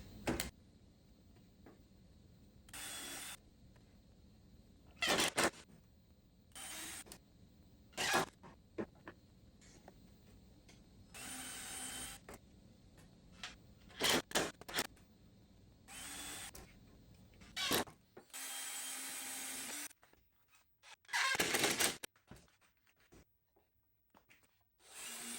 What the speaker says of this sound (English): it's a good idea to pre-drill it first.